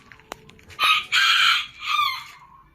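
A small Serama rooster crows close by in a high, bright call broken into three bursts, preceded by a sharp click and light rustling.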